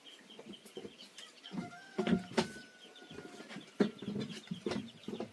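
Ducks at a village market give scattered quacks and clucking calls at close to mid distance, in irregular bursts over a low background of market bustle.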